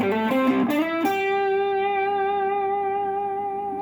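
An electric guitar through a multi-effects unit's drive amp model plays a few quick notes, then lets one thick, driven chord ring and sustain, close and full-bodied.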